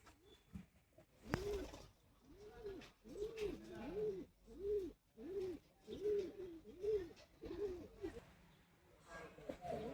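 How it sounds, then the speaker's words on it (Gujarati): Pigeons perched overhead at a village cooking site coo in a steady rhythm, soft repeated calls about one per second, fairly close, with faint background activity. "કબૂતર જો ઉપર બેઠા મોજ કરે છે."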